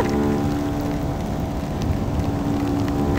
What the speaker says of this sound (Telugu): మళ్ళీ ఇక్కడ వర్షం ఉంది